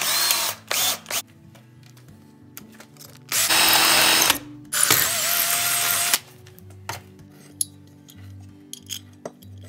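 A DeWalt drill with a speed chuck drives bolts while lights are replaced on a John Deere 3032 tractor: a few short whirring bursts and two longer, loud runs, with clinks and quiet gaps between.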